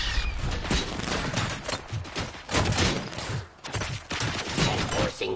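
Dense, sustained rapid gunfire from RoboCop: Rogue City, with overlapping bursts of shots and mechanical clatter that stay loud and close for the whole stretch, rising and dipping in waves.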